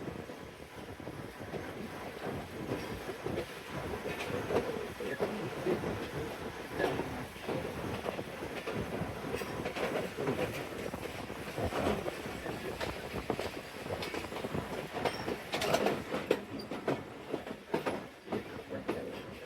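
Narowal passenger train 211 pulling out of Lahore railway junction, a continuous rumbling rattle of wagons rolling on the track, heard up close with gusting wind noise on the microphone throughout.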